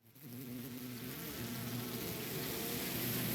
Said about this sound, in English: The bees that had been hovering near the ceiling descended with a terrible cacophony of beating wings